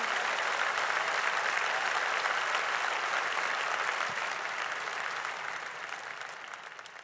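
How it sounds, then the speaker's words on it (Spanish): A church congregation applauds in a steady, even roar of many hands clapping at once, the sound slowly tapering off toward the end. "si le vas a dar ese aplauso a Jesús"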